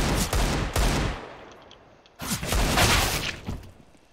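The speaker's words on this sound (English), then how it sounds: "There's some fireworks." Counter-Strike fireworks crackle in two loud bursts of rapid popping and cracking, close and dense, separated by a short lull.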